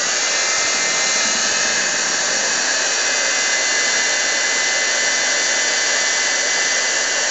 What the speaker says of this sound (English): And then you're going to hit it with the heat gun.